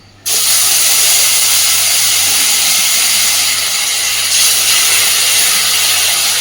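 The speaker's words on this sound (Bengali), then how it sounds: "এবার দিচ্ছি খানিকটা সর্ষে আর 2 কোয়া রসুন একসাথে করে বেটে নিয়েছি" A paste of ground mustard and garlic is dropped into hot oil for a fish curry. A sudden loud hiss bursts out after a brief quiet and holds as a strong, steady sizzle, close up with no talking.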